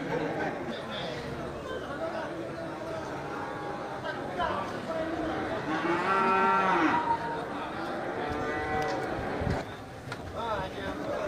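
Large fattened local cattle moo at a busy livestock market, several loud drawn-out lows rising over a background of crowd chatter and people talking nearby.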